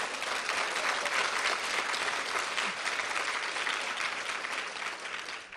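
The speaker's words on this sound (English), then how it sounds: "So can I get a round of applause for that?" Steady audience applause at an award presentation for government and international work, a dense continuous clapping from a crowd that fills the whole stretch and tapers slightly at the end.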